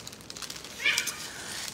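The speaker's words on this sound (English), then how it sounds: "I have 4 cats" A house cat meows once, a short rising cry at moderate distance, heard faintly over a quiet room with low background noise.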